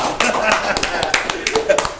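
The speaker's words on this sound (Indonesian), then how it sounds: "Tepuk tangan buat Bang Syahrullah." Brief scattered hand claps from a small group at an interview, sparse and uneven taps rather than a full ovation, with a voice speaking over them.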